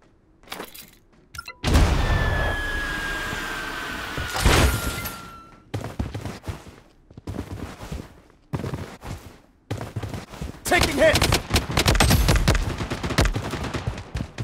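Rapid bursts of automatic gunfire in the Blood Strike battle royale shooter, loud overlapping volleys and sharp cracks in irregular clusters, with brief gaps between exchanges and no speech.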